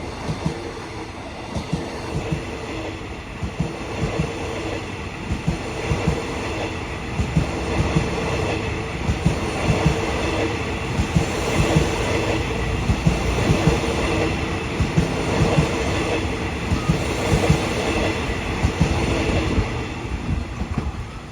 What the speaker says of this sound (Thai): QSY 5213 นะครับจะเข้าโค้งมันโป่งทางด้านหน้านะครับ